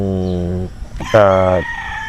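A rooster on a chicken farm crows loudly and close by, one drawn-out crow followed by a second rising, strained call, with a voice briefly audible.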